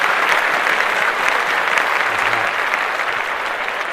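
A dense crowd applauds steadily and loudly for the full four seconds, a continuous wash of clapping hands with no pauses.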